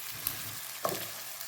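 Pasta in a cream sauce sizzling softly in a pan as it is stirred, a quiet steady bubbling with a couple of light scrapes of a utensil against the pan.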